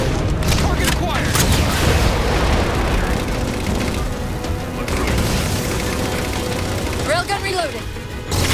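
A railgun fires on Phantom dropships during a Halo 4 battle, with heavy booms and rolling blasts rumbling continuously beneath dense gunfire and combat noise, while voices talk over the action.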